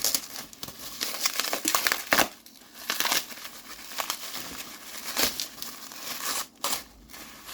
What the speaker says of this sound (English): he's bubble wrapped it all inside. Let's have a quick look at the bridge as well. I'll pull it all out.